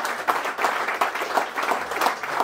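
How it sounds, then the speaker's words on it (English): A live audience at a Dublin event in December gives a round of applause after a short interview with a TD: a crowd of hands clapping steadily for a couple of seconds, with no talking over it. "give a round of applause"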